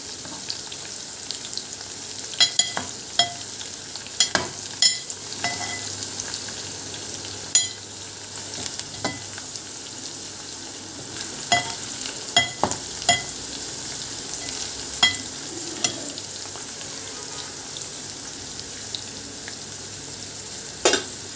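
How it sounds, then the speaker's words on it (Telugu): Ivy gourd frying in oil for a masala curry gives a steady, fairly quiet sizzle, broken by sharp scrapes and taps from a spatula at irregular intervals. No one speaks. "దొండకాయ కోసుకొని దాన్ని ఆయిల్లో బాగా ఫ్రై చేసుకోవాలి."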